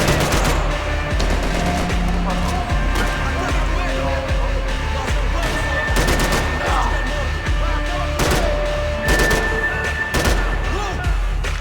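Gunfire in the video game Max Payne 3, with repeated loud shots and bursts spread through the scene alongside game sounds, and a voice talking at times.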